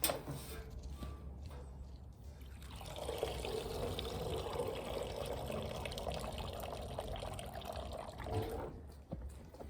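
Freshly washed wool in bags lifted outdoors in chilly weather, water streaming and trickling off steadily for several seconds after a brief rustle, close and moderately loud.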